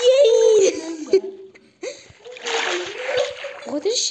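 A splash of someone falling into water, broadband spray bursts mixed with excited young voices, squeals and laughter, loud and close.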